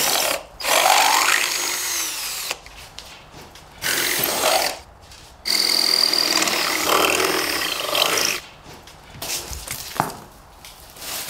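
A power drill fitted with a metal bit bores through a door frame in four or five separate bursts of whining, grinding roar, each lasting one to three seconds, with short quiet gaps between them.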